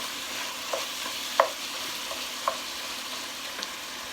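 Green chile and food stirred in a hot pan, a steady sizzle with a few light scrapes and taps of the utensil, close and moderate, no voices.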